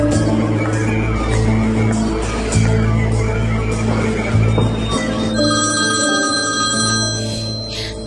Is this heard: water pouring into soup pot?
no